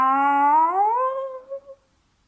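A single drawn-out cat meow, rising then falling in pitch, loud and close, trailing off with a couple of short soft sounds at the end.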